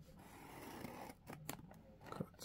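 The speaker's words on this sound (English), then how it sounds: "My X-Acto knife." An X-Acto knife slicing open a cardboard box for an LED headlight upgrade kit, giving short close scraping cuts and crisp tearing strokes in a quiet room.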